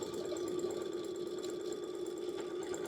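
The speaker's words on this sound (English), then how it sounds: "And we're going to sew 1/4 inch seam right there." A sewing machine runs steadily and close by, stitching a quarter-inch seam on a pinwheel quilt with an even, fast mechanical whir.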